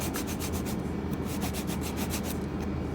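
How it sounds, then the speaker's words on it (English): Acrylic nails being filed with a 100 grit banana file, a close rasping scrape in quick back-and-forth strokes, steady and continuous with no talk. "my nails are ready to file"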